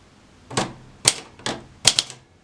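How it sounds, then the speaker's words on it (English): Typing on a HEMA 44K typewriter, five crisp, sharp key strikes spaced unevenly with a quick double tap near the end, close and clear against near silence. "There's typing,"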